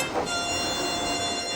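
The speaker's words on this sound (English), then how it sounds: "he brought the train home" Steam engine hauling a train home, a continuous rolling chug and rail rumble with a faint whistle tone, steady and close throughout.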